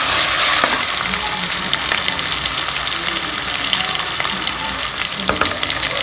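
Small shallots and a large onion sizzle loudly in hot oil in a pressure cooker for mutton biryani, a steady close frying hiss with occasional stirring scrapes.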